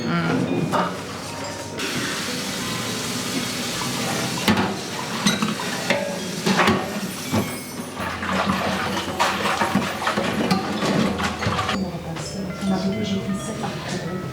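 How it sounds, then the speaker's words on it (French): A spoon stirs and mixes food in a pot, with repeated scraping clinks and wet churning at varying pace, close by, while people talk over it now and then. "maintenant je peux bien mélanger, il ne faut pas mettre de trop non plus"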